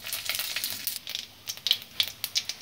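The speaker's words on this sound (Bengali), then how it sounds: "ফোড়নটাকে ভালো করে ভেজে নেব।" Cumin seeds, bay leaf and dried red chilli crackle in hot mustard oil for moong dal tempering, a steady sizzle broken by sharp irregular pops and spits throughout.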